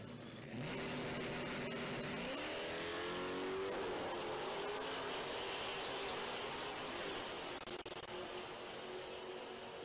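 A pink 2019 Dodge Challenger and a pickup truck launch side by side at a drag strip, engines rising sharply in pitch, then holding a sustained loud roar as they pull away, heard at some distance.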